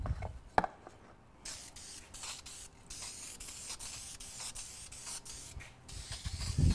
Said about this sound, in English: I can already move on to our clear finish, which is going to be the DEFT spray gloss lacquer again.